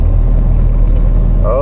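A camper van's engine pulls along in third gear with a loud, steady low rumble close by. A voice speaks over it and a rising whine appears near the end.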